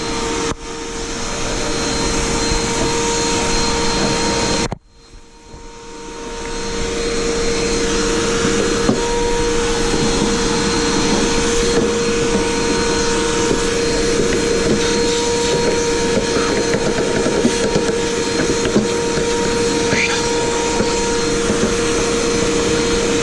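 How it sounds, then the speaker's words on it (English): A vacuum cleaner runs steadily while cleaning dust from a Univox guitar's pickup cavities and F-holes, cutting out briefly near five seconds before whining back up and continuing loud and constant. "I'm gonna get the vacuum out and just give it a once over."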